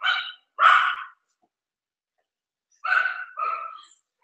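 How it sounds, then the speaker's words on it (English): Two dogs bark indoors in short bursts, a pair of loud barks followed after a pause by two more, alone with no talk. "These are my dogs."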